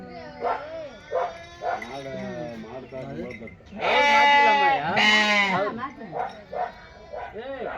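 Goats bleating during the Mattu Pongal cattle festival, with several loud, wavering cries in quick succession near the middle, set among people talking close by.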